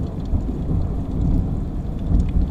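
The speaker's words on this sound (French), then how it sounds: "Il y a des boules de feu, des sacrés éclairs là" A mountain thunderstorm with lightning: heavy rain hisses steadily while deep thunder rumbles and rolls close by, loud and continuous.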